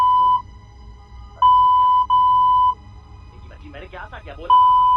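Loud censor beeps, steady pure tones, cut repeatedly over a played phone call recording, some long and some short, with a voice speaking between them.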